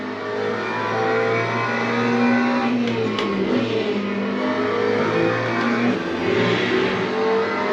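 A GT3 race car engine in the Le Mans Ultimate racing game revs loudly and continuously, its pitch rising and falling through gear changes with no voices over it.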